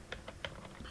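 Quick typing on a computer keyboard while coding, several distinct close key clicks in an uneven rhythm, quiet and alone.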